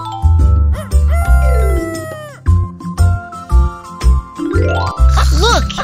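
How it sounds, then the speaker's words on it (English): A cartoon rooster's crowing rings out repeatedly over bright jingling, tinkling tones, with short pauses between the loud bursts. "Mr. Rooster crows to wake everyone up at day."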